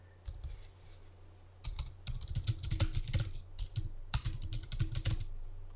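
Rapid typing on a computer keyboard while writing a sentence in Microsoft Word 2003, with bursts of close, crisp key clicks separated by brief pauses, alone with no talk.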